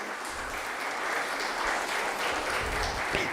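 An audience at a biotech skilling programme session claps in steady, dense applause that carries on evenly for a few seconds, heard from within the hall with no speech over it.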